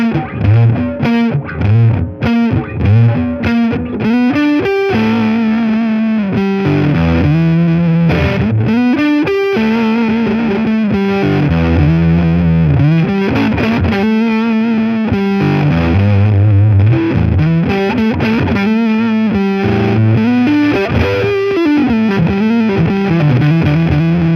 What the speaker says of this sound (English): This is what a fuzz pedal sounds like.